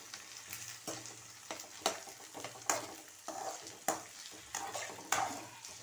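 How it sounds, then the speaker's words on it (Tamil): Onions and drumstick pieces sauté in oil under a close sizzle, with regular scraping stirring strokes about once a second and no talking. "இதே மாதிரி எண்ணெயிலையும் நல்லா வதக்கணும்."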